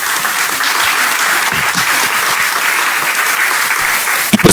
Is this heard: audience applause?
yes